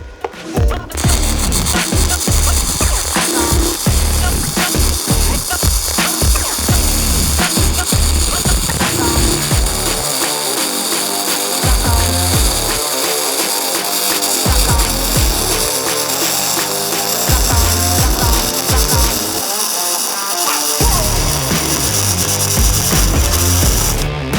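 A 110V flux core welder running at 135 amps, its maximum setting, gives a loud, steady crackle and sizzle that holds for about twenty-four seconds with brief dips in the low rumble.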